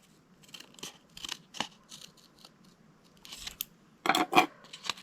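Scissors snip a slot into a cardboard tube, a string of short crisp cuts that build to a louder close pair of snips near the end, with no voices.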